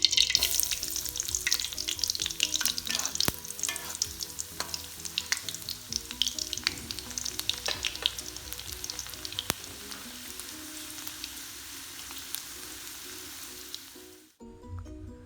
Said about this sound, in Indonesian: Iris bawang putih lalu digoreng ya.